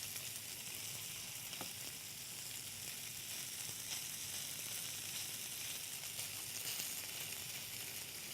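Strips of meat sizzle and fry steadily in a hot pan before being scrambled with eggs, a continuous, even crackle with no voices.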